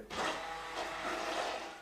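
A stick blender whirs steadily while emulsifying butter into bagna cauda, a moderate continuous motor buzz with a slight surge that runs for about two seconds without talk.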